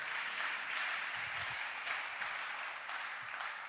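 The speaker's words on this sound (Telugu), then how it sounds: "చప్పట్లు కొట్టాలి." A church congregation claps together in a faint, distant patter of applause that carries on steadily throughout.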